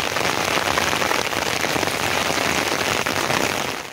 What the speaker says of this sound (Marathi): तोपर्यंत पाऊस आला बघा